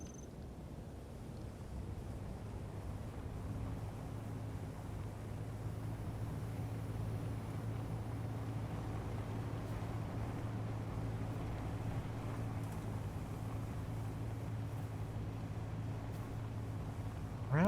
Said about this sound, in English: I should probably turn the engines on